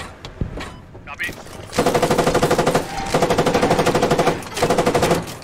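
Bursts of rapid machine-gun fire ring out from a main battle tank in the game Squad, three long rattling strings of shots after a few scattered single bangs, loud and close.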